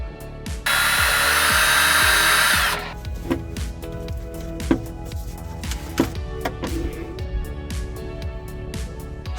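A power drill whirs loudly for a couple of seconds while backing a screw out of an RV faceplate. Clicks and knocks of handling follow over a steady rhythmic background hum.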